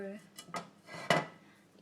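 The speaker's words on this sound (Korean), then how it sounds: "자, 이 냄비가 또 나왔어요" Metal cooking pot lifted out and handled in a home kitchen, giving three distinct clanks and knocks against other cookware, quiet and close with short gaps between them.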